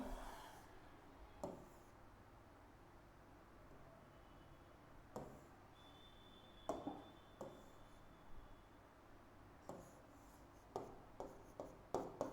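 A pen scratches out notes during a Hindi history lesson, with soft, faint strokes and taps that come in short irregular bursts against a quiet room hum.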